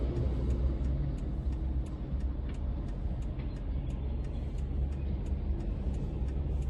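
Traffic passes on a busy road near a construction zone, a steady heavy rumble of cars and larger vehicles heard from inside a waiting car, with faint ticking throughout.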